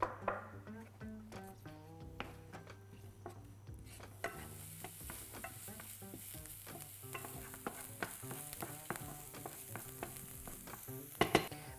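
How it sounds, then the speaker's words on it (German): Onions sauté in hot olive oil in a frying pan, giving a steady soft sizzle with frequent clicks and scrapes of stirring, close and clear, with no talking. "Ich werde jetzt ein wenig Olivenöl in der Pfanne erhitzen, um da unsere Zwiebeln 3 Minuten anzudünsten."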